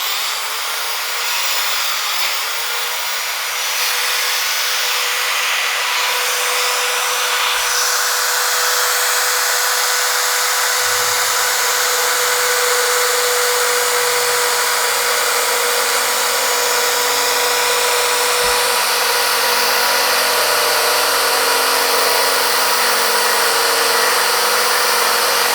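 A Bosch GSB 10 RE corded impact drill runs locked on, giving a loud, steady, high-pitched motor whine that holds continuously throughout, close up with no talking.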